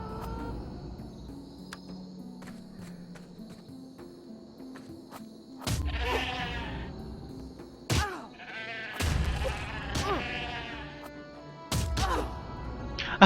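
Sheep bleat in the fantasy MMO game Vanguard, several loud wavering bleats in separate bursts over quiet ambient game sound, with a few thumps between them.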